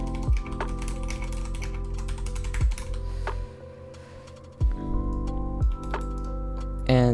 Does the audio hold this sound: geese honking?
no